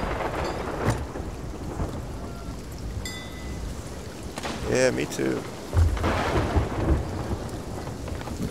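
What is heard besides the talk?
thunderstorm with rain in video game Sea of Thieves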